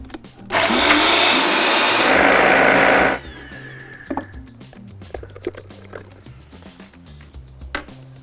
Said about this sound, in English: Got it in the blender now.